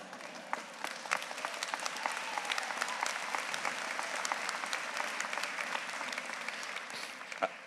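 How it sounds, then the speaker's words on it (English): Applause fills a hall at a university fall convocation, a steady, moderately distant patter of many hands clapping throughout, with no voices over it. "That's so good that you applauded."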